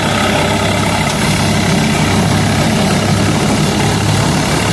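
A Swaraj 855 tractor running a straw-chopping machine drones loudly and steadily up close, a continuous heavy engine rumble with a slight rise in revs and no clear speech.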